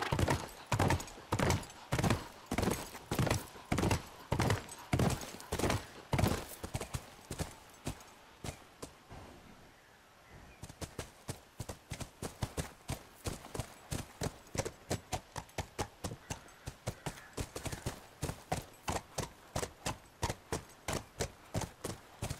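Horse hooves clip-clop in The Last of Us, a steady, close, loud beat of hoofstrikes running through almost the whole stretch. The gait slows into a brief lull midway, then resumes as an even, rapid rhythm with no talk over it.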